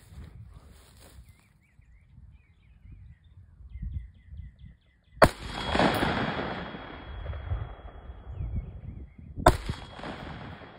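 Rifle shots fired at a long-range target about 350 away, two sharp loud cracks several seconds apart, each followed by a rolling echo across open ground, with quiet outdoor ambience between.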